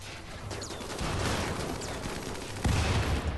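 Gunfire and a grenade blast in the video game RimWorld form a dense, continuous crackle of shots with a heavier thump near the end, with no one speaking.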